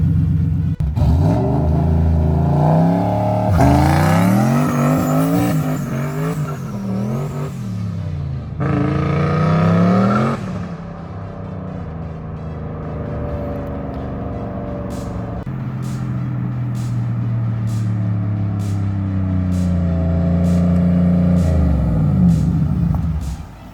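A car engine idles and revs repeatedly, with a deep rumbling tone rising and falling; loud and close, no talking.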